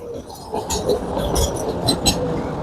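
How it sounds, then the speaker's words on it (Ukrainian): A tram passes along a street in the Sotsmisto residential district of Kryvyi Rih, a steady rolling rumble with light metallic clinks and squeals from the wheels on rails, moderately close and continuous throughout. "а також бюджетний вид транспорту, трамвай"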